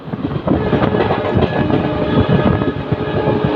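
A train rolls through Alipurduar station without stopping, a loud, steady rumble of wagons with a clattering rhythm of wheels on rail joints, heard close and continuous throughout.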